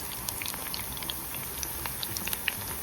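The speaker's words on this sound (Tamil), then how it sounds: "ஒரு பக்கம் நல்லா ஃப்ரை ஆனதும் இன்னொரு பக்கம் இதை திருப்பி போடலாம்." Raw banana fries deep-fry in hot oil, a soft steady bubbling hiss with small irregular pops and crackles, fairly faint and close.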